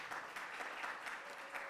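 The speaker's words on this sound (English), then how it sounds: "I think he deserves a round of applause" A conference audience at the ACSIS 2025 event gives a brief round of applause, a soft, even patter of many hands clapping heard from a distance.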